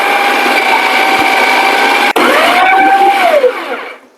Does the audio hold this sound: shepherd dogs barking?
no